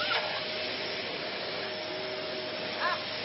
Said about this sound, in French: C'est bon, vous pouvez démarrer vos aspirateurs.